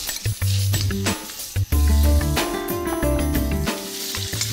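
Beef for stroganoff searing in melted butter in a hot frying pan gives a steady, close crackling sizzle that runs throughout, over a low tonal background, with no talking.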